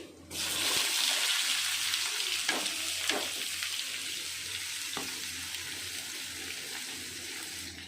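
Ivy gourd (dondakaya) and potato frying in oil with garlic and dried red chillies. A steady, bright sizzle runs throughout, broken by a few stirring scrapes near the start, with no talking.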